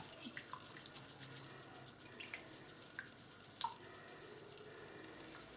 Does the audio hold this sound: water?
yes